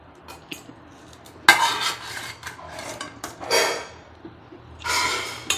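Sautéed vallarai greens scraped from a pan into a mixer jar, with rasping spoon scrapes and a few sharp metallic knocks in uneven bursts, close up and without talk.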